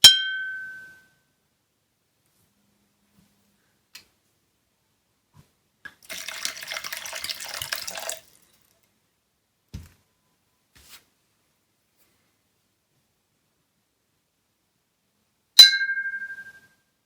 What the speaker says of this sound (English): the plan is to strike it with this implement and then empty a little bit of water out each time